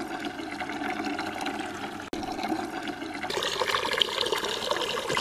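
Apple cider vinegar poured into water for lambs gives a steady, continuous splashing gush lasting about five seconds, growing slightly fuller toward the end, with no talking.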